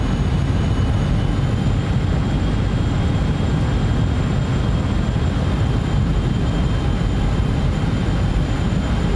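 Aircraft engines at high throttle in Microsoft Flight Simulator 2024, a loud, steady, continuous roar with a faint high whine running throughout, no voices.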